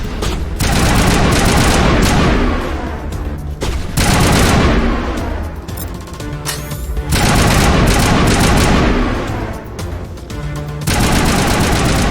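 Sustained cover fire in the video game Mass Effect: loud, dense bursts of automatic gunfire in long volleys separated by brief lulls, close and overwhelming with no voices.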